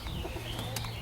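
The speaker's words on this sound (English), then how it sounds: "I'm getting ready to fly these young birds with my old birds on my white racers" White racing pigeons give a short, soft coo, quiet against a faint outdoor background.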